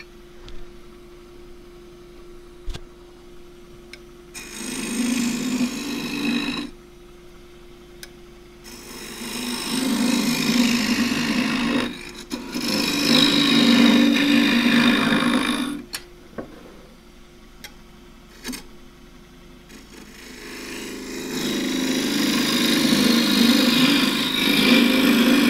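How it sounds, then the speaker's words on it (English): A 1/4 inch deep fluted bowl gouge cutting a thin wooden pot on a lathe: several sustained scraping, hissing passes of shaving wood separated by quieter gaps with the lathe's low hum. "Now this is the 1/4 inch deep fluted bowl gouge."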